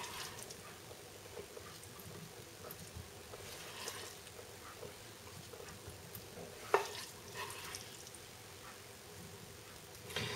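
Dried beans and butifarra sausage are stirred in a pan, a soft, faint sizzle with light scraping, one sharp clink partway through and a steady low background hum.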